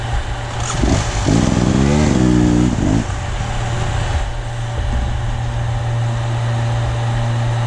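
A motorcycle engine runs steadily in a forest, with a short rising rev early on before it settles back into a continuous, fairly loud idle.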